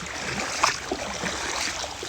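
Water rushing and overflowing after a very heavy downpour, a steady broad wash of flow with small splashes, continuous and moderately near, no voices over it.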